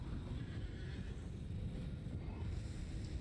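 Horse neighing in Elden Ring, a low rough whinny under a dense rumbling fight din, muffled and steady throughout.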